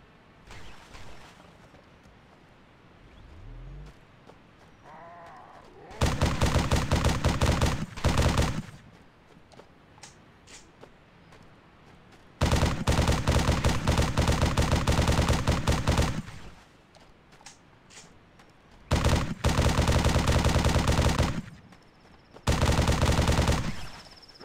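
Bursts of rapid automatic gunfire from a new weapon in Halo come in loud sustained volleys of several seconds each, separated by quieter gaps with faint game ambience, the last bursts shorter and choppier.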